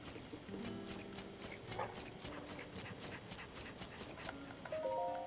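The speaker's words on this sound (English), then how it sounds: "Wait, is that a golden horse?" A golden horse in the game Zelda: Tears of the Kingdom trots with quick, even clip-clopping hoofbeats, faint and set against background game music.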